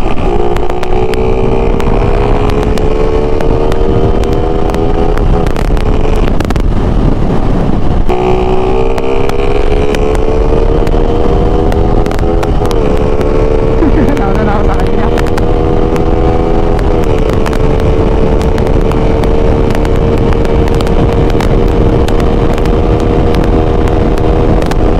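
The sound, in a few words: two-stroke motorcycle riding at speed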